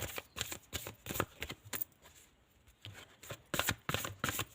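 Tarot cards are shuffled close by, giving repeated riffling bursts in quick rhythmic clusters, then a short quiet pause and another round of flicking shuffles.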